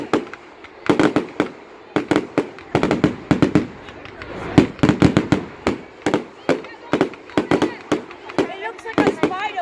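Bonfire Night fireworks burst in a rapid series of loud sharp cracks and bangs, some clustered in quick volleys, with spectators talking and exclaiming between them.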